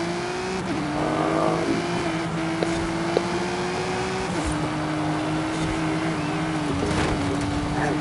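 A race car in Forza Horizon 5 drives with a steady, loud engine drone whose pitch holds a sustained tone, dipping slightly at shift points, over continuous road and wind noise throughout.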